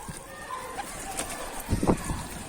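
Mardin pigeons on a rooftop give soft cooing calls, with a louder burst of coos and some wing movement near the end under light outdoor noise.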